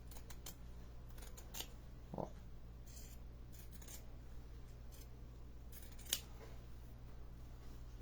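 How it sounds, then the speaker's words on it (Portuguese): Pinking shears cut through sewn fabric in a sewing lesson: a series of soft, crisp snips spaced irregularly over a low room hum, with one brief vocal sound partway through. "então, eu já vou cortar com a minha tesoura de picotar"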